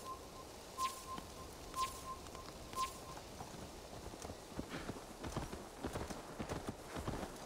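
Horse hooves clop in a steady rhythm in Assassin's Creed Valhalla during a race, starting as a few spaced, sharp hits and building into a faster, denser gallop, with birds chirping faintly in the background.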